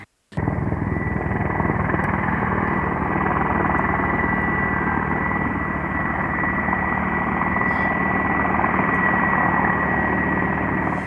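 Loud, steady helicopter rotor and engine roar starting abruptly and continuing without letup.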